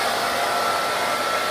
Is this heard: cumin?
no